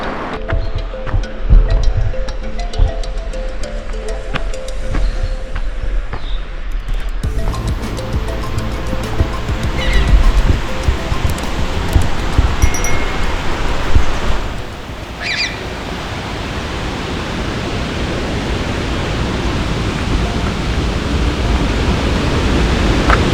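Rushing water of Peričnik waterfall, a loud, continuous broadband roar close by that thickens and grows stronger partway through, with faint bird calls and brief voices mixed in.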